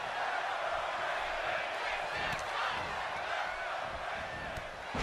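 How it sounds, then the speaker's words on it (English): A wrestling arena crowd keeps up a steady, dense roar, its voices mingling in a continuous chant-like wash with no announcer speaking over it. "this crowd engaged in a dueling chant of "Let's go Christian" and "Christian sucks.""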